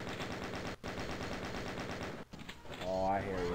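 Enemy gunfire in the video game Final Doom rattles in rapid continuous bursts, loud and dense, with brief gaps, then a voice speaks over the shooting at the end.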